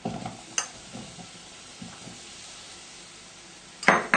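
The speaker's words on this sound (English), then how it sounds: "Be nice and hot, and then straight in with your mushrooms." Mushrooms hitting a hot pan with about a teaspoon of oil, giving a steady close sizzle with light stirring scrapes and a sharp clatter of the pan near the end.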